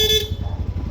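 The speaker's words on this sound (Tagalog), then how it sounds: "sa busina ni sir ang kinabit natin, PIAA dual horn setup." A PIAA dual horn fitted to a Yamaha NMAX V3 scooter gives a short, loud, close blare that cuts off abruptly, leaving idling engine rumble.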